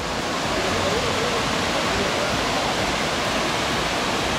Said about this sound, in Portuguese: cachoeira do Rio Cari